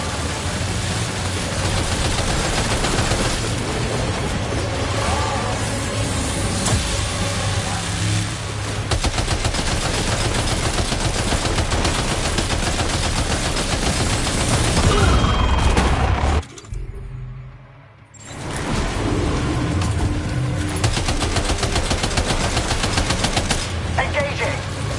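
Sustained gunfire in Death Stranding 2: a loud, dense, continuous fusillade of rapid shots with booming layers, cutting out for about a second midway before resuming just as heavy, with a voice talking under it.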